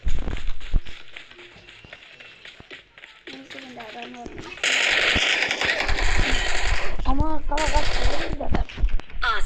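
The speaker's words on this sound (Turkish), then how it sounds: "Adamın teki iki tane boncuklu tabanca almış. Sıkıyor." Pistol fire in an online shooter game, two beaded handguns firing rapid cracking bursts in the latter half, loud and close, alongside other game effects and voice chat.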